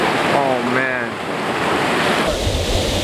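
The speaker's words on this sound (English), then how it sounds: "We just found the dopest few waterfalls that we've ever seen on this trip right now." Several waterfalls in a remote spot give a loud, steady roar of rushing water mixed with wind buffeting the microphone, while a brief voice exclamation sounds early on.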